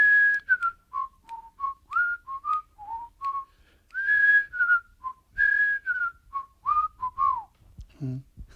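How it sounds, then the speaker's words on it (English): Several people whistle a lively tune together, steady melodic phrases continuing for several seconds with a brief low sound at the end. "Whistle along, everybody."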